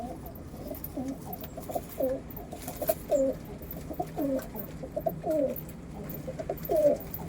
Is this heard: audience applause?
no